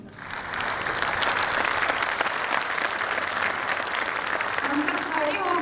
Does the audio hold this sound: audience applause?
yes